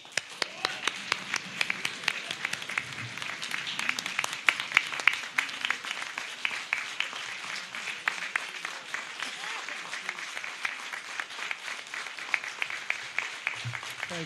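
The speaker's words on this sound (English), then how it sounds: "Please give a round of applause for the Major." An audience at a U.S. Army ceremony in Wrangell applauds a Major, sustained dense clapping from many hands that continues steadily throughout.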